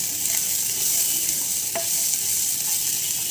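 Finely chopped garlic, ginger pieces and a few cashews sauté in a pan over medium heat, giving a steady close sizzle with light stirring scrapes and no voices.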